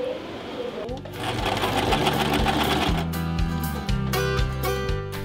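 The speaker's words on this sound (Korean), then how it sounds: "귀에 들린 소리의 근원지는 바로 재봉틀" A sewing machine runs steadily with rapid mechanical stitching, loud and close, while faint voices or background sounds mix in underneath.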